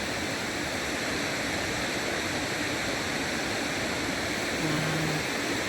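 Waterfall on the river at Decew Falls, a steady, dense roar of falling water filling the scene at constant loudness, heard from nearby with no voices.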